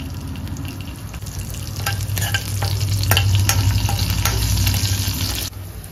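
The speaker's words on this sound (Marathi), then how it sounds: "जिरं थोडंसं तडतडलं की त्याच्यात मिरची घालायची आहे." Cumin and green chilies sizzle steadily in hot ghee and oil for a fasting sabudana khichdi. The crackling frying grows louder partway through with stirring scrapes and cuts off abruptly near the end.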